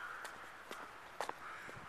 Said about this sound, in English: And as the crows fly by,